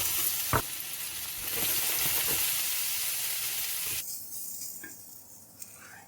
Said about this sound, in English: Now roast these onions on low to medium heat with a little bit of oil until they're soft.